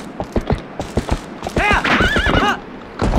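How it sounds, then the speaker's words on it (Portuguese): Horse in a video game, clip-clop hooves tapping rhythmically, then a loud, close whinny rising and falling for about a second before the hoofbeats resume. "cavalo do caralho, mano."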